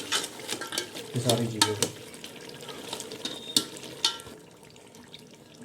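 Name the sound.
stirring spices and mutton in a frying pan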